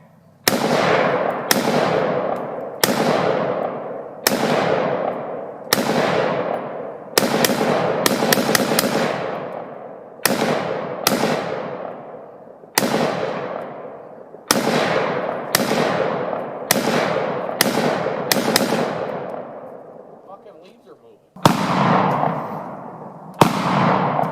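Gunshots fired at a target, roughly fifteen sharp reports with ringing decays, spaced a second or two apart in an irregular rhythm, loud and close with no talk.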